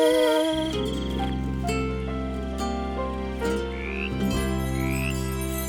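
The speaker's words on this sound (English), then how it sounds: "Oh, a frog! It's so cute!" Frog croaking in a cartoon scene, a steady low rhythmic croak close and clear over a sustained musical backdrop, with a couple of rising chirps near the end.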